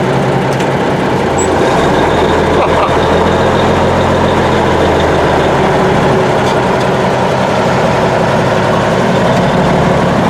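An M925A1 army truck's diesel engine runs at idle after starting, a loud, close, steady low rumble with a constant mechanical clatter and no talking.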